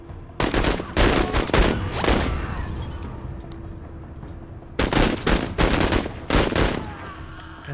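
Bursts of automatic gunfire in the sci-fi tactical game MENACE: several loud rapid volleys, a lull with a faint tone, then two more close bursts of shooting.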